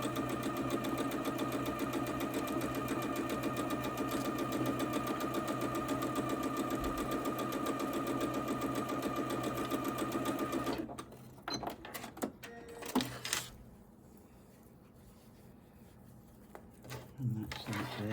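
A sewing machine stitches quilt blocks in a steady, loud mechanical whir for about ten seconds, then stops, followed by fabric handling and small clicks.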